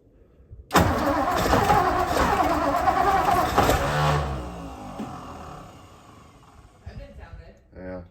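A 1957 Lincoln V8 cranks and catches after sitting for nearly 60 years, with a loud rough burst of engine noise that runs unevenly for a few seconds before dying down, followed by short sputters and faint voices.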